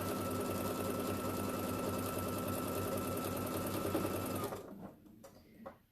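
Sewing machine stitching a quilt seam, a rapid steady mechanical whir with a fast rhythmic chatter, close and fairly loud, running for about four and a half seconds before stopping and leaving quiet handling noises.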